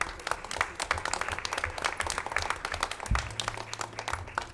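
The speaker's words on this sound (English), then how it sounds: "Let's have another round of applause for our students." School board meeting audience giving a round of applause for students, brisk clapping from a moderately sized crowd heard throughout, with a low hum entering partway.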